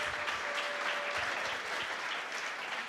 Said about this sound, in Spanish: Le puedes dar un aplauso a Dios.